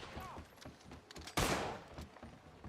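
A single loud gunshot cracks out in an execution of a hostage, standing out sharply from quieter voices and background movement.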